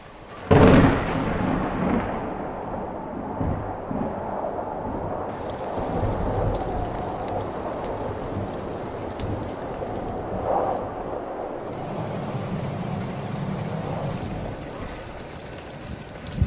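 Steady rain falling in the mountains during a thunderstorm at an abandoned mine where a truck is parked for camping, a continuous broadband wash with a sharp burst near the start and no talking.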